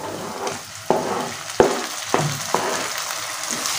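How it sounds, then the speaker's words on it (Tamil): Chopped tomatoes frying in a pan for mushroom masala, with a steady close sizzle broken by several sharp scrapes and knocks as a spoon stirs the mix, no talking. "தக்காளி எல்லாத்தையும் சேர்த்து நல்லா மிக்ஸ் பண்ணி விட்டுக்கோங்க"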